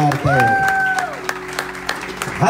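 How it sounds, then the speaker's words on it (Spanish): Clapping hands from a small group at a church wedding, sustained and fairly close, with a tonal musical drone and voices layered over it. "Denle un aplauso fuerte."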